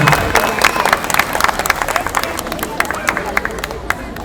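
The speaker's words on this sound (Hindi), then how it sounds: "बहुत ज़्यादा ताली है" Audience at a festival stage performance clapping and applauding, dense rapid claps with crowd murmur, fairly loud and close, steady throughout and thinning slightly toward the end.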